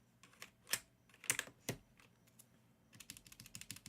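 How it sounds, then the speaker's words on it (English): Mechanical keyboard switches clack as keys are pressed, with sharp separate clicks early on, then a quicker, softer run of lighter taps toward the end, close and dry with no talking. "you can kind of hear the difference. This is like really clicky and this one's not"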